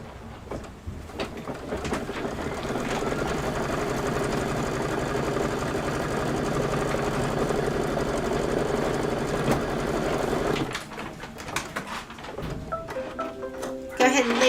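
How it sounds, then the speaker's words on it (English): An embroidery machine sews a placement stitch for a solid fabric piece on a February table topper, a continuous close mechanical whir with rapid needle ticking that holds steady for about ten seconds, then drops away to quieter rustling and clicks. "This is going to be the placement stitch for your solid piece of fabric"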